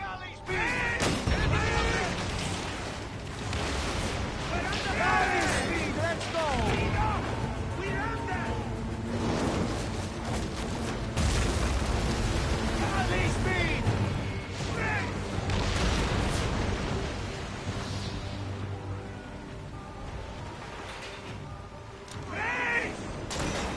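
Cannon fire during a galley naval battle in Assassin's Creed Origins, repeated booms and clashing battle noise mixed with music, as crew voices shout orders throughout.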